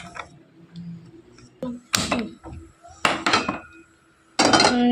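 A metal wok (kadai) is set down on a stove, producing several sharp, ringing metallic clanks and clatters separated by short pauses, fairly close and loud against a quiet kitchen.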